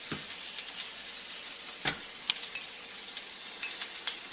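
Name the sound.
instant ramen noodles stir frying with soy sauce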